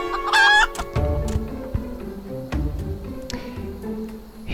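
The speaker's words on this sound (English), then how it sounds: "I know that chicken." A chicken in the Final Fantasy 14 video game gives a loud squawking crow, followed by softer clucks over a low musical background.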